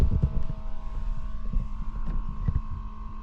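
A fan runs steadily inside a Zafira car camper on a hot night, a constant low hum and whir with faint soft thumps of rain on the roof behind it.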